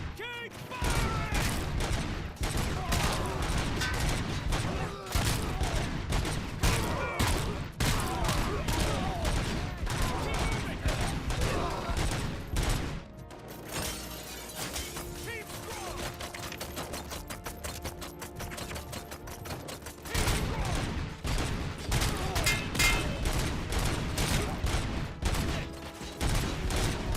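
Sustained gunfire from a firefight in the shooter Robocop: Rogue City, dense rapid bursts with shouted commands and speech over it, a quieter lull midway before the shooting picks up again loud and close.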